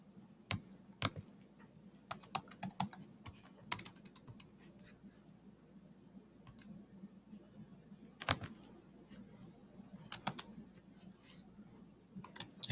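A long password typed on a computer keyboard, with scattered bursts of soft clicking keystrokes, some quick runs and pauses between them, close but quiet over a faint room hum.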